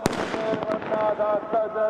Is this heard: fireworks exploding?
yes